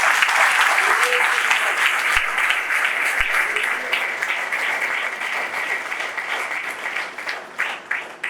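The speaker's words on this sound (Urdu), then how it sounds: "آئیں یسوع کے لیے زوردار تالیاں" An audience at a church gathering bursts into loud, sustained applause that fills the whole stretch, dense clapping with a few sharper claps standing out near the end.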